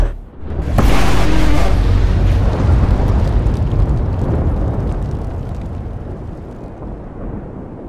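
A huge explosion erupts suddenly and loudly, then rumbles on as a long roaring blast that slowly fades over several seconds.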